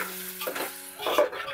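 Prawn biryani masala is stirred as it fries in released oil, a close sizzle broken by scraping strokes of a spoon in the pan.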